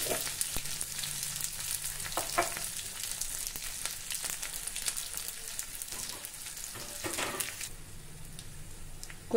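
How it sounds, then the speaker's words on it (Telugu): Chana dal, urad dal, mustard seeds, cumin and crushed garlic fry in hot oil for a tempering, a close, steady crackling sizzle with sharp pops and occasional stirring scrapes, no talk. "నూనె కాగిన తర్వాత చెనగపప్పు, మినపప్పు, ఆవాలు, జీలకర్ర,"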